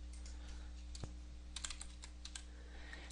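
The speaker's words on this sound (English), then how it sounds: "I can just start typing the first name," Typing on a computer keyboard while entering first names into an Excel 2013 spreadsheet: faint, quick plastic key clicks in scattered short bursts over a low steady hum, with no talking.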